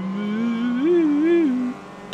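Honda Fit engine in the Forza Motorsport 3 racing game, a steady droning whine that rises and falls in pitch as the revs change, then drops away near the end.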